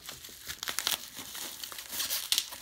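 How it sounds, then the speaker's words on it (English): Plastic packaging of a Nano Wash waterless wash product being cut and torn open, giving close crinkling and rustling with brief sharp tearing bursts, no talking. "Let's get this stuff cut open"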